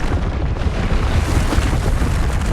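A Depulso spell cast in Hogwarts Legacy sets off a loud, dense blast, a booming rush of sound that stays strong for a few seconds with no talk over it.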